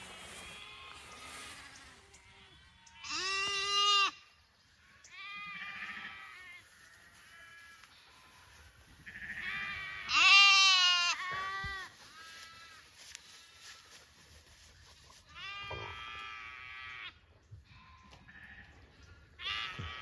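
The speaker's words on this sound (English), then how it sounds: "Every now and then one will let out a meh." A flock of sheep with three-week-old lambs grazes outdoors, giving repeated high, wavering bleats near and far with quiet gaps between calls and faint insect buzz in the background.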